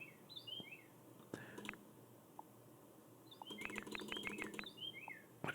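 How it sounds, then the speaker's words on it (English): A loud bird right outside a window gives several quick chirping calls, first in a short burst and then in a busier run, over faint room noise and a few small clicks. "It's a very loud bird right outside my window"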